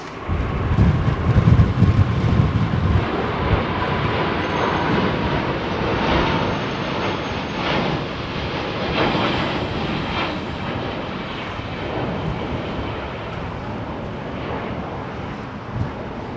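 A jet airliner departing runway 27R at Heathrow Airport, a loud, broad roar that stays heavy throughout, strongest at the start and slowly easing, close and continuous with no talking.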